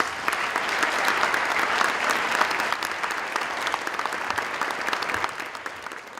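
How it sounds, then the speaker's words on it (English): A large audience at a National Honor Society and National Junior Honor Society induction ceremony breaks into dense, sustained applause, loud and even throughout with no talk over it. "I think you all deserve a round of applause for that."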